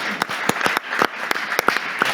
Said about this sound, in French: Applaudissements pour Sharon Elbaz.